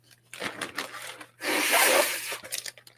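Rustling and rubbing in a bag while digging out pieces of tape during a Routemaster bus model build, with a long, louder crinkling burst in the middle amid scattered shorter scuffs.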